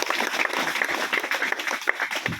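An audience of parents and students claps in welcome at a school event, a loud, continuous round of many hands with individual claps standing out close by.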